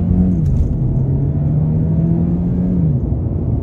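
A 2023 Hyundai Elantra Limited Hybrid pulls away from a stop, heard from inside the cabin as a steady low rumble and faint rising hum, loud and continuous for a few seconds.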